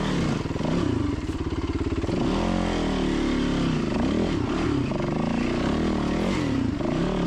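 A motorcycle engine revs and labours while climbing a rocky hill, with the throttle rolled on. The engine note rises and falls in pulsing surges, loud and close, with no voices.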